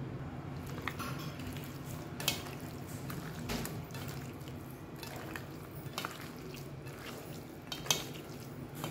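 Meat pieces are worked together with spices and ginger-garlic paste by hand, giving soft, wet squishing and dripping sounds at a close, quiet level, with occasional light clinks of a bowl.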